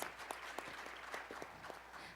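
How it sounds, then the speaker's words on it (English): A conference audience at a security forum gives a round of applause for an Interpol innovation director, steady distant clapping at low volume with a few sharper claps standing out. "Please give him a big round of applause."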